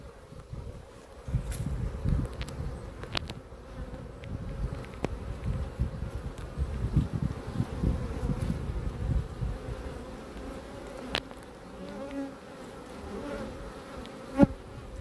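Honeybees buzzing steadily at a hive where they are washboarding, a close, dense hum with a few louder passes near the microphone and slight wind in the background.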